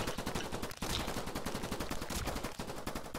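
Rapid gunfire from sniper and shotgun towers in the RTS tower defense game IDUN, a dense, continuous stream of loud repeated shots with only a couple of brief dips, no talking over it.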